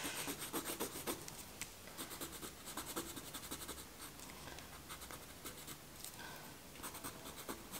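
Pen or pencil scratching across paper while sketching figures in an art studio, a close, steady papery scrape made of short quick strokes, quiet and without any talk.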